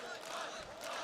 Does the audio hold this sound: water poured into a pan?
no